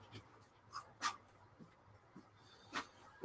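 Whippet dog whimpering and giving a few short yips and barks, scattered faint bursts over a quiet indoor background, heard from a short distance.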